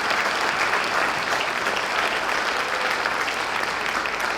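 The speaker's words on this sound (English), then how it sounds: "let's just one round of applause for that awesome group of kids" Dense, steady applause from a concert audience for a student jazz group at a spring school jazz concert, a loud continuous wash of many hands that holds evenly from start to end.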